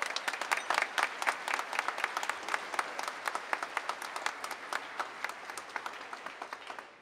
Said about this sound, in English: let's give him a round of applause, too.